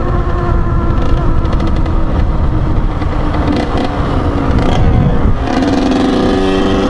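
A Kawasaki KX100 dirt bike is ridden flat out on a road, its small engine screaming loud and close with a rising, buzzy whine through quick gear changes and wind rush.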